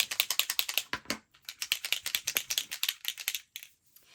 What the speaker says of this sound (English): I'm going to get out my Posca pens and just shake them up good before I use them